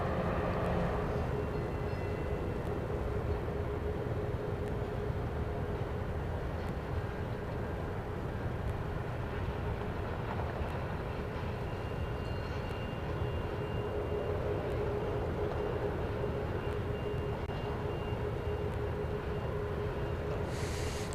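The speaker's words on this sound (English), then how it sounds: "the arrival is going to be Flight 246 from Denver, a MAX 8" A Boeing 737 MAX 8 airliner, arriving on a flight from Denver at Dallas Love Field, produces a steady, continuous broadband jet roar with a low rumble that stays loud and even for the whole stretch.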